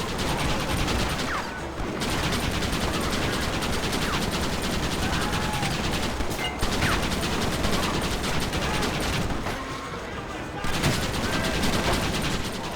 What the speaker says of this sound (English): Meanwhile, we are still shooting these rebels.